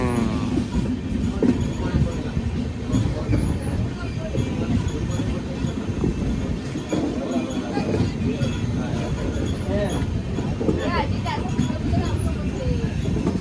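A passenger train rumbles slowly and steadily along the tracks with a constant low roar and faint rattling, while voices chatter in the background.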